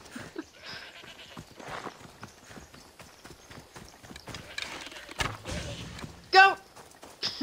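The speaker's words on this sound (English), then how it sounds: "More goats." Goats bleat in the Assassin's Creed Odyssey game amid hoof clatter and faint game sounds, with one loud, wavering bleat standing out near the end and a person talking quietly at times.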